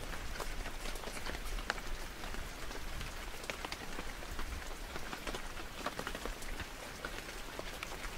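Steady rain falling during a horseback trail ride through hill country in Nicaragua, a dense continuous patter of drops with scattered sharper hits, moderately loud and without voices.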